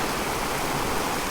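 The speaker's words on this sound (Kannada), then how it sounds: "ಚೆನ್ನಾಗಿದೆ ಫಾಲ್ಸ್" Loud, dense roar of a waterfall rushing, heard on a rainy-season ride from Bangalore to Dharmasthala, a steady broadband wash with no voices.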